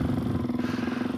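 Suzuki DR-Z 470 big-bore stroker motorcycle, stock geared, rolling on the throttle in first and second gear, giving a steady close pulsing engine drone with no talk.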